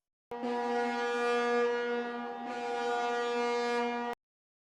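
A deep, steady ship horn blows one long, loud blast for nearly four seconds, with a slight swell in the middle before stopping abruptly.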